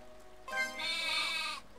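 A single video-game sheep bleat, a wavering nasal cry lasting about a second, sounds clearly over a quiet background in the RPG Maker game Lullabia.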